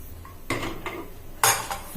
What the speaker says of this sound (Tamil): வாங்க இப்போ குக்கர் ஓப்பன் பண்ணி பார்க்கலாம்.